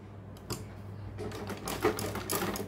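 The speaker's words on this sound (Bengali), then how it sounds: "রাখার পরে আমি এখানে সেলাইটা দিয়ে নিব।" A sewing machine stitches the hem of a trouser leg in short bursts of mechanical whirring, running close and moderately loud with brief pauses between runs.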